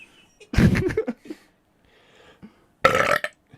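A person burps twice in a quiet room, a loud drawn-out belch followed after a pause by a second shorter, equally loud one, with faint breathing and small mouth noises between.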